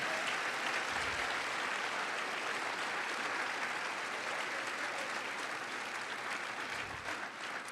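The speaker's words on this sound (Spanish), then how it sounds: "Dele otro fuerte aplauso al que vive." Steady, dense applause from a church congregation fills the room throughout, an even wash of many hands clapping at moderate distance with no talk on top.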